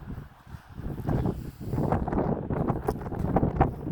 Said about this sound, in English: It's just damn windy